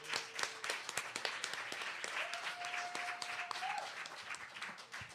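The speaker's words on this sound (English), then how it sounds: "Let's everyone give Paul another round of applause." Audience applause for a solo performer at a live Human Rights Day community event, steady dense clapping from a crowd that carries on for several seconds, with a faint tone sounding partway through.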